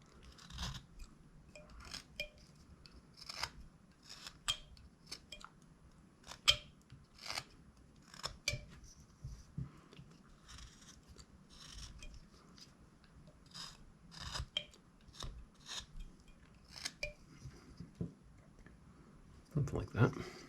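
A knife whittles and trims a small wooden figure of a hillbilly, with repeated short dry scraping cuts in an uneven rhythm, close and quiet.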